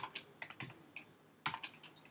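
Fingers tap a computer keyboard while code is written, giving quiet, irregular clusters of close key clicks with short pauses between them and no talk.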